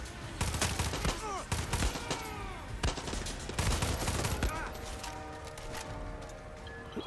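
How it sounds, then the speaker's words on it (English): Gunfire in the video game Far Cry 6, repeated bursts of rapid shots and single cracks amid chaotic combat noise, loud and close, with ricochet-like whines between volleys. "Who the fuck's shooting at me?"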